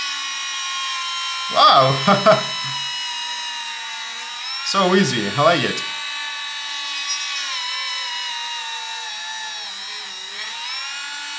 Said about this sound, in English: Let's try and drill this wood.